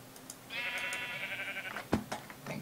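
A Minecraft sheep bleats in one sustained, wavering cry lasting over a second, followed by a sharp click and a few faint game sounds, with no talking.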